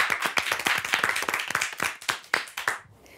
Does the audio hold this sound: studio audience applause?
yes